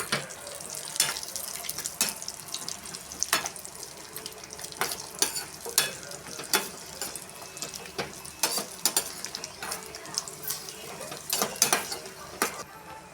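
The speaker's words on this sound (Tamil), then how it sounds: "பாயசம் இந்த பாருங்கள் கொதிச்சிட்டே இருக்குது." Milk and sago payasam boiling in a pot gives off a steady bubbling with frequent soft pops and clicks, close and moderately quiet, with no speech.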